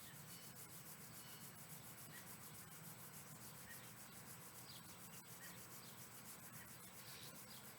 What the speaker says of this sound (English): Let's bring the palms of the hands together and we'll start to rub them.